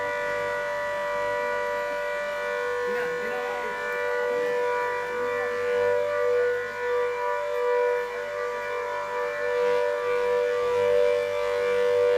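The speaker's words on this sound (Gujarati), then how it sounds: "સાયરન વગાડી અને નદી કાંઠાના લોકોને સાવચેત કરવામાં આવ્યા" A civil defense siren at Mukteshwar Dam in Banaskantha warns riverside residents as floodwater is released, sounding as a steady, sustained wail that holds its pitch for the whole stretch, loud and continuous with no voices.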